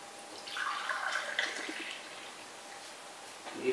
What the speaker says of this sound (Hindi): अब हम जो पानी गर्म कर रहे थे अब उसको हम एक कप में निकाल लेंगे।